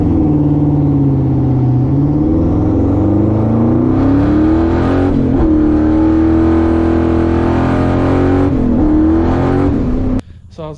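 A twin-turbo, LS-swapped Monte Carlo with a TH400 transmission roars loudly under hard acceleration, its engine note climbing through several gear changes before cutting off abruptly near the end.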